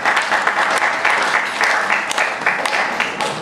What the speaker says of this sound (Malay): saya juga ingin tuan-tuan memberikan tepukan mulut kepada Saudari Hasnah dan Aizat.